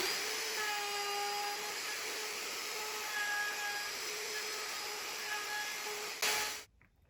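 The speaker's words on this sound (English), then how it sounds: "So you can see the router won't actually cut quite right into the edge" A router spins steadily as it cuts a guitar neck pocket routing template, its high whine holding for about six seconds before dropping away into near silence at the end; no one talks.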